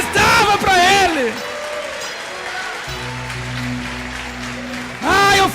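Congregation clapping at a church service, a dense steady patter of applause running for several seconds between bursts of loud speech at the start and end.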